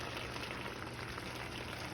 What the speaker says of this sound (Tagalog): Oh, kumukulo na yan siya